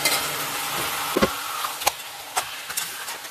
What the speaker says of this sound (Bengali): এখন আমার এখানে মশলাটা কষিয়ে এসছে, তেল ছেড়ে দিয়েছে। এবার আমি দিয়ে দেবো ভেজে রাখা মাছের মাথাটা।